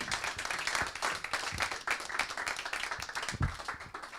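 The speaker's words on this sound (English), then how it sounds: "You can give an applause." Audience applause after a talk on art and machine learning, dense steady clapping from many hands lasting several seconds at moderate volume, with no voices over it.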